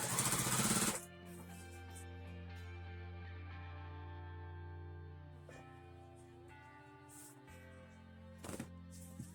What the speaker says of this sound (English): I'm going to sew trim over this